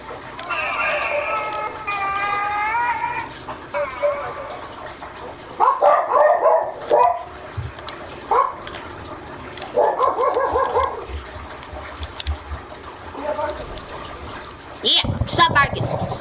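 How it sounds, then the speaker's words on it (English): A dog barks in short bursts among splashing water and frequent talk from people nearby, at moderate loudness throughout. "Stop barking."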